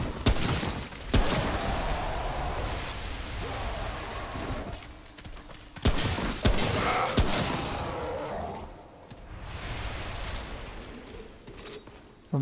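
Rapid sustained gunfire from the game Remnant: From the Ashes, loud bursts with sharp cracks and short pauses between volleys, plus faint metallic clinks.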